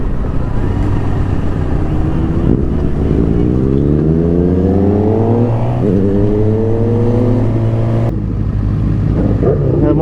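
A sports motorbike engine droning loud and close while riding, rising in pitch through the gears with steady rumble and wind noise, then briefly shifting and settling back to a lower tone.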